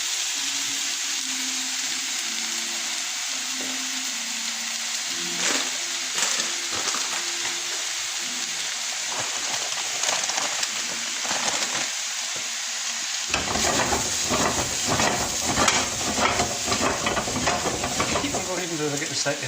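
Fruit for an apple crumble sizzles gently in slightly browned butter in a pan, a soft continuous hiss with occasional stirring scrapes, growing busier and more crackly toward the end.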